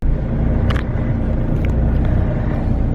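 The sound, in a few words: bus arriving at the stop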